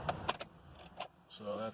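Car keys for a 2010 Honda Fit jangle and clink in a few quick bursts as they are swapped and turned in the ignition, fairly close and moderately quiet, followed by a softer mechanical hum.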